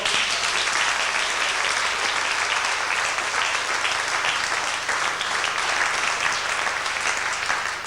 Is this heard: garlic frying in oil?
no